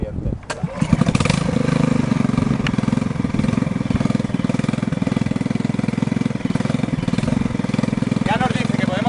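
A small inverter generator engine pulls to life with a sharp start, then settles into a steady, loud, buzzing run that continues without letup.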